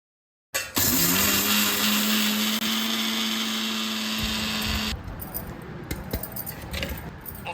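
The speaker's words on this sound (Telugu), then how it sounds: "ఆవపిండిని మెత్తగా మిక్సీ చేసుకోవాలి" A kitchen mixer grinder starts abruptly and whirs loudly at high speed crushing mustard seeds, its motor whine steady before shifting to a rougher rattling grind of the seeds in the jar.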